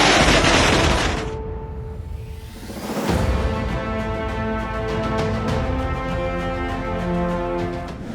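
Firecrackers burst at a Thalapathy Vijay fans' street celebration in Bengaluru, opening with a loud, dense crackling fusillade. A deep boom follows, then the sound settles into a sustained rumbling, crackling din.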